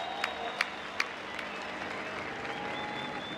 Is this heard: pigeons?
no